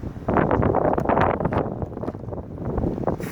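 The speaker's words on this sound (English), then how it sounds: "It's a windy day today." Strong gusts on a windy day buffet the microphone beside a wind-damaged RV roof, a rough, rumbling rush of air that rises and eases in uneven waves.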